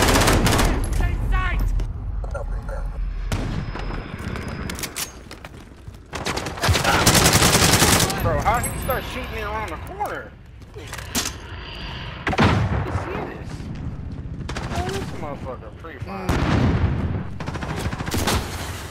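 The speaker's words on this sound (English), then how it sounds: "Bro, how can you start shooting me around the corner?" Rapid automatic gunfire from an AN-94 rifle in the video game Modern Warfare 2020, loud repeated bursts and volleys spread through the stretch, with someone talking over parts of it.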